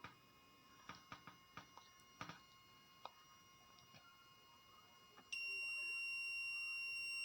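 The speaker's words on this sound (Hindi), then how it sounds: "तो इसमें बीप का साउंड आ रहा है" A multimeter checks Honda Activa BS6 scooter wiring at the ignition coil and ECU: a few faint scattered clicks, then a sustained high continuity beep that holds steady to the end.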